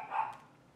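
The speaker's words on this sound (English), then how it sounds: "I swear I can't do one video without them barking." A single short dog bark, fairly close and moderately loud, followed by quiet room tone.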